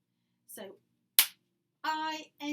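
A single sharp hand clap stands in for the letter B in the children's song Bingo during a ukulele lesson, bracketed by short bits of speech.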